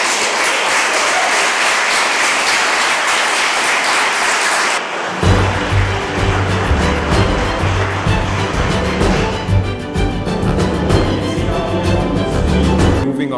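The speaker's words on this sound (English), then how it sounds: "So a big round of applause for everyone who was nominated in this category." Applause at a women-in-law awards ceremony for the category nominees fills the opening seconds as a dense clapping wash, then gives way abruptly to a louder, tonal musical passage with a steady low pulse.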